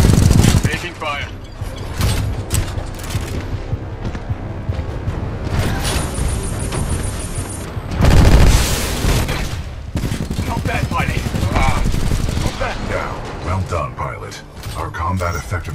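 Gunfire in Titanfall 2 battle, loud dense bursts of automatic and heavy weapon fire with booming impacts, while a voice speaks over the combat.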